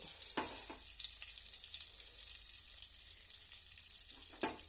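Butter melting and frying in a hot pan with a little oil, for paneer kofta gravy: a steady close, bright sizzle throughout, broken by a few sharp crackles and spits, with no voices.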